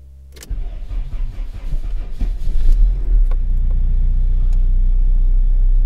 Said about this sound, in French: C'est parti maintenant pour l'essai du redémarrage.